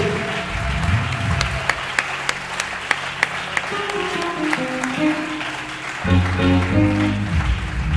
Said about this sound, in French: Acclamons le Seigneur pour la ville de Boaké.